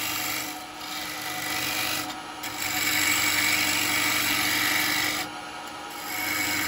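Large carbide chisel scraping a spinning wood blank on a lathe while turning a small cowboy hat: a steady, loud rasping hiss that runs nearly the whole time, easing briefly twice before picking back up.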